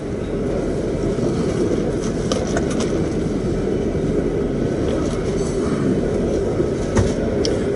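A northbound empty crude oil freight train rolls past with a continuous heavy rumble and scattered clanks of wagons, steady and fairly close throughout.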